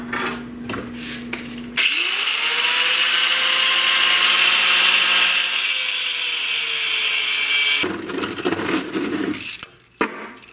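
Cutoff wheel grinding through metal during a loom restoration, a loud steady high-pitched whine for about six seconds whose pitch sags as it bites in, framed by short clanks and tool handling before and after.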